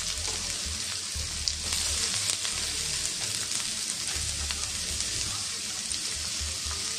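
Fish sizzles steadily in hot oil in a pan, a dense, continuous crackling hiss with low bubbling underneath, close and constant throughout.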